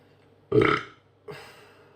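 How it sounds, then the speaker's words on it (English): A burp after drinking Chimay Red ale: one loud, close belch lasting about half a second, followed by a shorter, softer second burp, with no talking. "If I burp, sign of a good beer"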